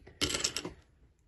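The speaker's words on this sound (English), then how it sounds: "So I'm going to put 3 red counters into my five frame." Small plastic counters clatter into a five frame, a brief cluster of light rattling taps lasting about half a second before the room goes quiet.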